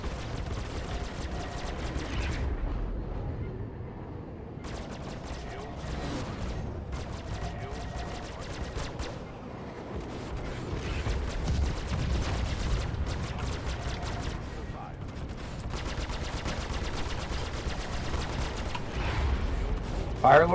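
Steady weapons fire in the Star Citizen space game, with dense crackling shots and mechanical noise running continuously at a fairly low level.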